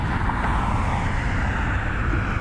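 Aer Lingus airliner departing from Cleveland's airport, a steady, loud roar of jet engines with continuous broadband rumble and no pauses, heard from a spotting position.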